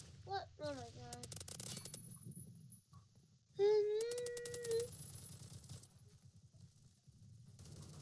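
Gunfire in the Roblox shooter Phantom Forces comes as two short rapid bursts of clicky automatic shots a few seconds apart. Tonal whines and game sounds sit in between over a low background hum.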